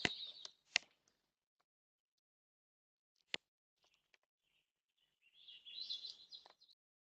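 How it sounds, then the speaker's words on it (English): Birds chirping outdoors, picked up by a Ring doorbell camera: a few sharp, high tweets early on, scattered faint clicks, then a brief burst of chirping near the end, distant and quiet. "So anyway, I think the birds they're up to something."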